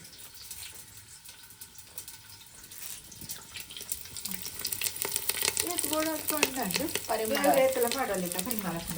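Curry leaves dropped into hot homemade ghee with onion in a frying pan crackle into a busy sizzle that grows louder and denser, with a voice talking over the second half.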